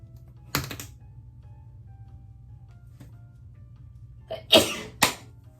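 A couple of close sneezes break a quiet room, one brief burst early and a stronger pair near the end, with a low steady hum underneath.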